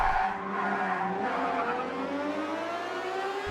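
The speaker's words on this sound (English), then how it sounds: "As the tyres squeal unnecessarily there." Tyres squeal loudly in the racing video game TOCA Race Driver 2 (2004), a sustained screeching skid over a steady engine drone, lasting several seconds without talk.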